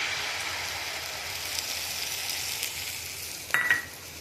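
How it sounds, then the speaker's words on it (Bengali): Beaten egg sizzling in a pan after parathas were fried, a steady soft crackle with a brief sharper clatter near the end; no voices. "ডিমটা দিয়ে দেবো।"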